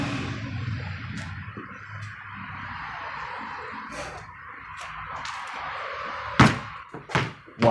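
Basketball dribbled on a hard floor at home, with several dull thunks scattered over a steady background hum and a few sharper, louder bounces near the end.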